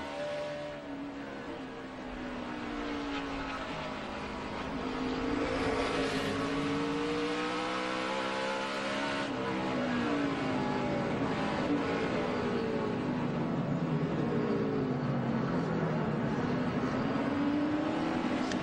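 Kevin Harvick's NASCAR race car roars from onboard during the 2011 Toyota Save Mart 350, a loud sustained engine drone rising and falling through gear changes and revs.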